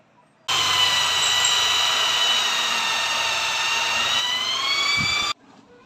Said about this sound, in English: I'm going to have to take the electric drill there.